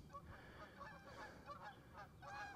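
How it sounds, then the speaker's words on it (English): Geese honk while flying overhead, a faint series of repeated nasal calls spread over a few seconds outdoors, distant and soft. "some geese going over the top"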